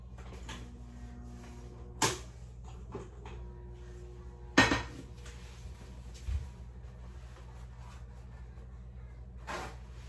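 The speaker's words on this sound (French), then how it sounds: "Je vais mettre ma poêle au feu." A frying pan is set down on a stove with a few sharp metallic clanks and clatters spread out among quieter kitchen handling noises.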